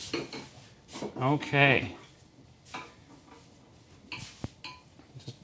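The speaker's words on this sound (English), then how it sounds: "I'm gonna put those bowls in my sink just to get rid of that." Metal mixing bowls clatter into a kitchen sink while gluten-free buttermilk biscuit dough is being made, a short run of clinks and rattles up close, with brief talk before and after.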